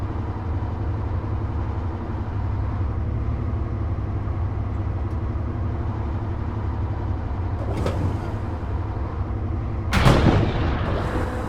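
A tank's engine rumbles steadily in a video game, then a tank cannon fires twice, a sharp blast near the end following a fainter earlier one.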